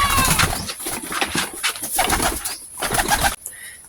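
Busy, continuous pigeon chatter with soft cooing and fluttering, fairly close, ending abruptly into near silence.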